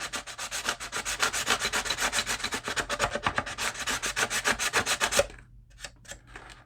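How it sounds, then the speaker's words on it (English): Steady, rhythmic rasping of sandpaper wrapped around a hard handle, rubbed back and forth while sanding an RC car body, close and loud, then stopping with a few lighter strokes. "wrap the sandpaper around the handle so we have a nice hard surface, and start sanding"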